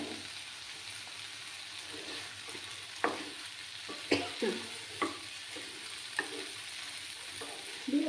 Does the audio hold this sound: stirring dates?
yes